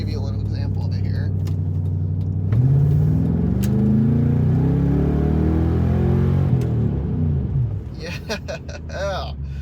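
An Infiniti Q45 project car accelerates hard at full power from inside the cabin, engine note rising in pitch as it revs up, then easing off; a person talks briefly near the end.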